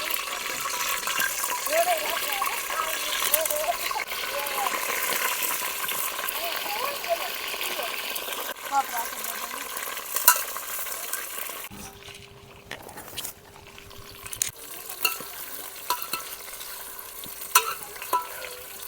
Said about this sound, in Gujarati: તેલમાં તળી નાખીશું રીંગણા।